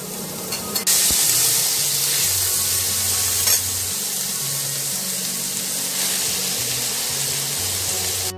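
Wild village greens dropped into a hot pan, bursting into loud sizzling and spattering after a brief clatter, then a steady hiss with scraping stirring sounds.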